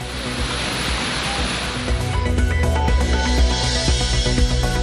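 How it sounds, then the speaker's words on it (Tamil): Thirparappu Falls in Kanyakumari runs in flood, a loud dense roar of cascading water that continues under a swelling musical tone in the second half, with no talking. "கன்னியாகுமரி மாவட்டம் திருப்பரப்பு அருவியில் குறைந்தது வெள்ளப்பெருக்கு"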